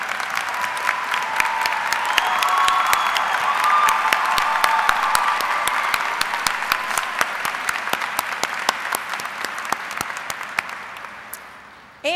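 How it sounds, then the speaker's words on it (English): Steady audience applause fills a high school graduation ceremony, sustained dense clapping at an even level for most of the time, slowly thinning and fading near the end. "if they would please stand so we can give you a round of applause"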